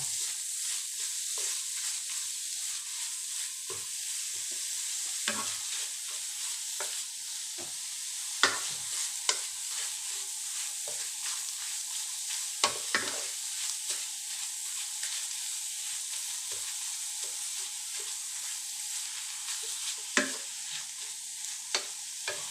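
Minced pork is stir-fried with salted egg yolk in a pan in a home kitchen, giving a steady soft sizzle with repeated scraping and clacking stirs of the spatula throughout, close by and with no talking.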